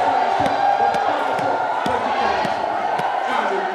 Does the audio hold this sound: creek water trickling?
no